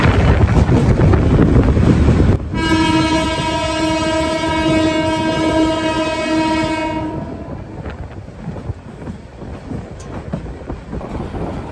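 The Sagorika Express runs at top speed on double-line meter gauge track, its horn blaring loud and sustained for several seconds over the steady roar and wind of the moving train, then fading back to running noise.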